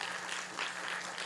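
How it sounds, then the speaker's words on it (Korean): A church congregation claps during a Sunday worship service, dense steady applause from many hands filling the room at an even level, with no voices over it. "우리 지체들에게 우리 격려와 응원의 박수 하시겠습니다"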